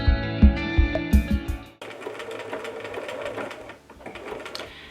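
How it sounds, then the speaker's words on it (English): A sewing machine stitches lace onto an Edwardian camisole in fast rhythmic bursts, then pauses while the fabric is turned before stitching resumes with a softer, steady whirring. "I'm going to lift my presser foot and turn the project and continue stitching."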